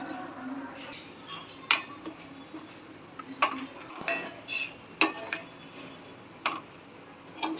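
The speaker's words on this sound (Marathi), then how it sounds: "जिरा पण भाजून घेऊया" Cumin seeds being dry roasted in a pan for homemade garam masala, with intermittent metallic clinks and scrapes of a spoon against the pan over a quiet background.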